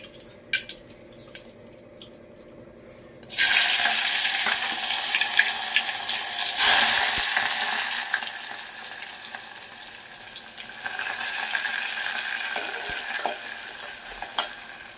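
Roasted eggplant mash is tempered in a hot pan, a loud sizzle bursting in after a few quiet seconds and crackling steadily with stirring and scraping until the end.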